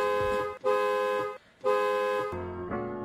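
Two long, loud blasts of an aftermarket Hella car horn on a Hyundai Xcent, separated by a brief pause, followed by a slightly lower, steadier horn tone that holds to the end.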